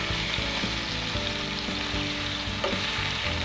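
Spicy pork chops frying in a pan, a strong close sizzle with constant spitting crackle and light stirring knocks, steady throughout with no talking.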